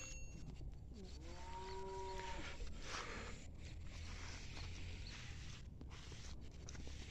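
A cow moos once, a low drawn-out call over constant rustling outdoor noise, followed by scattered footsteps and shuffling.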